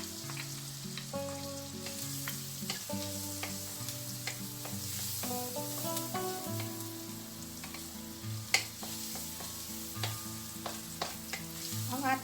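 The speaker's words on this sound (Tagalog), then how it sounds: "And then, idagdag natin yung ating garlic." Garlic sizzling in melted fat in a pan during an octopus stir fry cooked in Sprite: a continuous crackling fry with scattered spatters and utensil clicks, steady throughout and free of speech.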